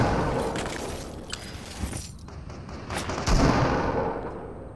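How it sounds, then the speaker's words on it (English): Shotgun blasts in the Fortnite video game, several heavy booming shots amid continuous loud battle noise, with a strong burst near the end. "Who's shooting the shotgun?"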